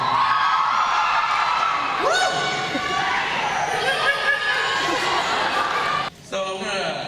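A live audience cheers, whoops and yells for a comedy show, dense crowd noise sustained throughout with excited shouts rising above it, dropping briefly near the end.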